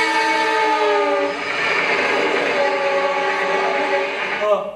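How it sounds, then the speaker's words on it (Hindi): A train engine whistle blows loud and close, a sustained multi-tone horn blast holding steady for several seconds, with rail noise beneath before it fades at the end. "रेल की इंजन की सीटी।"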